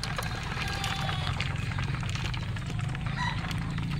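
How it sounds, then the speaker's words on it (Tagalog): Young roosters (stags) and pullets out in a range area, a steady low clucking and crowing backdrop with continuous outdoor noise, fairly distant and even throughout. "Mga naiwan natin na mga lalaking mga stag natin."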